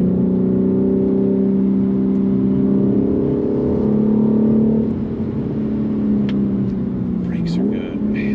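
A 2021 BMW G80 M3 engine hums steadily while cruising in third gear, a loud close cabin drone that shifts pitch slightly midway, with a brief voice near the end.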